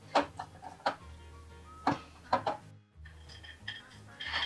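Dark chocolate compound, finely chopped, being mixed into a thick no-bake chocolate walnut fudge mixture: a few soft scraping knocks and clinks of a utensil against the pan, irregular and close, with a short pause partway through.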